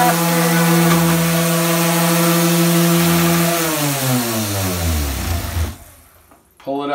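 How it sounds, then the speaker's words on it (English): Random orbit sander running on a floor during floor prep, a loud steady motor drone that slows and drops in pitch as it spins down near the end, with a brief knock after. "that's our random orbit sander"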